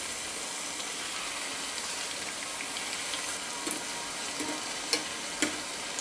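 Spoonfuls of batter sizzle and crackle steadily in hot oil as breakfast snacks fry, a constant close bubbling hiss with a few small pops and clicks.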